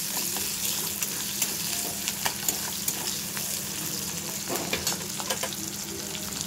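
Chopped ginger, garlic and onion fry in oil, making a steady close crackling sizzle broken by light, regular ticks and scrapes from stirring, with no voices.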